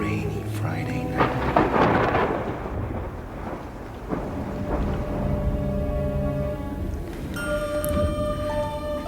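A thunderstorm sound effect for a radio drama: heavy rumbling thunder rolls over steady rain on a wet night, swelling and fading, with tonal sounds creeping in near the end.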